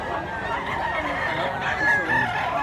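A rooster crows at a fowl market in Mantalongon, Cebu, amid a busy, noisy background of other fowl clucking and crowing, with steady crowd-like din throughout.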